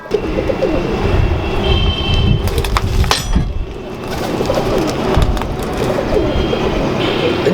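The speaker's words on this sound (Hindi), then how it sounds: "ये मिस्त्री शीदे वाले जो पुराने मेरे कबूतर है मेरे पास" Pigeons coo softly and repeatedly nearby, with a brief clatter of movement partway through and a low background hum.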